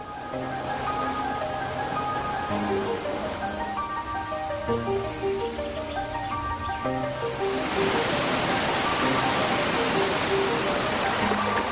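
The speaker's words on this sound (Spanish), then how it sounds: "Las grutas, originadas por la erosión, anejas a las cascadas, fueron descubiertas a mediados del siglo XIX." Waterfall cascades tumbling beside erosion-formed grottoes give a constant loud rushing roar, with sustained musical tones playing over the water throughout.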